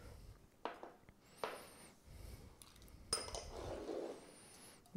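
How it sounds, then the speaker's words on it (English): Egg yolks broken up with a whisk in a bowl for buttermilk pancakes, quiet scattered clinks and scrapes of metal against the bowl with short pauses between strokes. "we're just going to break these up with the whisk a little bit"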